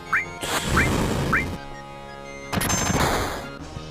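Bolt lightning spell cast in a Final Fantasy VII battle against machine enemies: a loud burst of crackling electric zaps and bright tonal sweeps, followed by a second crackling surge over steady game music.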